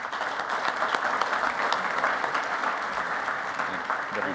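A conference audience at the 2023 EarthRanger User Conference applauds to welcome a speaker to the stage, a steady, even wash of clapping that lasts throughout at moderate volume.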